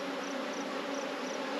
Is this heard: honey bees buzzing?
yes